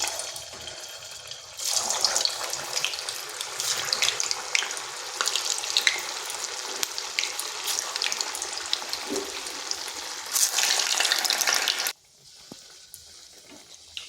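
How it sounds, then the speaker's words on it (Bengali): Mukhshola pitha fry in hot oil in a wok, giving a steady loud hiss and sizzle that starts abruptly, runs for about ten seconds, then drops back to a quieter bubbling. "এখানে কড়াইতে তেল গরম হতে দিয়েছি"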